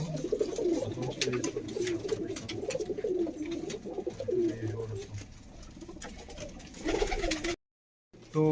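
Pigeons in a loft coo repeatedly in soft overlapping throaty calls, close and moderately loud, with brief rustles and a short silent gap near the end.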